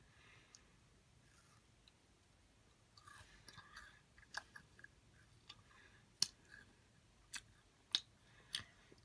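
A crunchy Kellogg's Special K chewy snack bar with dark chocolate, pomegranate and oats is chewed up close, with quiet mouth sounds broken by sharp, irregular crunches that grow more frequent toward the end. No one speaks.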